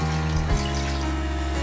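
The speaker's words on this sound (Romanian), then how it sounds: "Iar într-o cratiță, la foc tare, voi adăuga 500 de ml de apă" Water runs steadily from a tap into a saucepan for rice pilaf, a continuous loud rushing stream with a brief splash midway.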